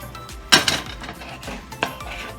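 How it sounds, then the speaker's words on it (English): Egg being scrambled in a pan with olive oil left from cooking steak, for beef fried rice: a few sharp utensil clinks against the pan over a soft background, with two louder scrapes near the start and later. "So I'm going to scramble up that egg inside of the pan."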